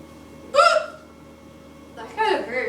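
Two hiccups from a person with the hiccups, a sharp one near the start and a longer, voiced second one after a pause, close and fairly loud in a quiet room.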